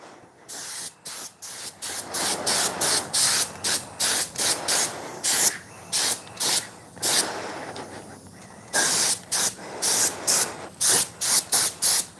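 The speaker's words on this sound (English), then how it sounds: "So here we go. We're going for our first spray." Repeated short bursts of hissing spray from a spray gun applying Cerakote coating to a BMW E36 M3 intake and timing cover, each lasting about a second, with brief pauses between, steady and fairly close.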